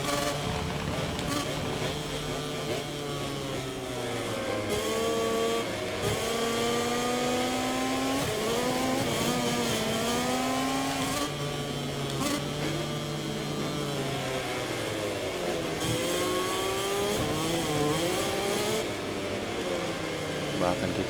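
Motorcycle engines in a MotoGP 24 race on the Sokol circuit in Kazakhstan, including a GasGas Tech3 KTM bike, rising and falling in pitch through throttle changes and shifts, loud and steady throughout with a voice talking over them.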